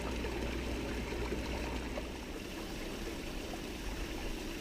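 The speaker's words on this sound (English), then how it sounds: "The material is washed down the sluice." Water rushes steadily down a gold sluice fed by a Wilson Brothers trommel in a recirculating setup, a continuous loud wash and trickle with no pauses and no talking.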